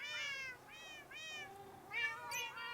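Minecraft cats meow repeatedly in a cat-powered creeper farm, a steady series of clear, fairly faint game meows one after another over a low background hum.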